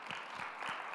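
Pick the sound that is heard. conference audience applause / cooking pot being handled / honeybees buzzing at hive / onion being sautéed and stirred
conference audience applause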